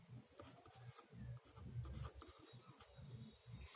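Writing on a board during a maths lesson makes faint, close rubbing and scratching strokes in short bursts with brief pauses, quiet and without talk.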